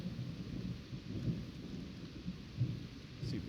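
Thunder from a severe thunderstorm over New York Harbor rumbles low and distant in a continuous muffled roll, with steady rain hiss throughout.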